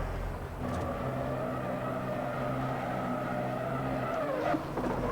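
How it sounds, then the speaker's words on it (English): A race car engine in the Night Runners driving game drones steadily at high revs, with tire squeal and a shifting pitch as the car slows, loud and continuous with no talk. "As you slow back down, you hear the car again."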